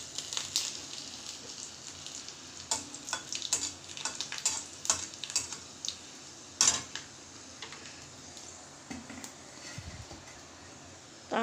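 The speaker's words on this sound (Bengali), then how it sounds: "এইবার তেল গরম হয়ে গিয়েছে, এবার আমি একটু সরষে দেব, কালো সরষে দানা।" Black mustard seeds and dried chillies crackle and sizzle in hot oil, a faint steady fry broken by scattered sharp pops and a few stirring knocks.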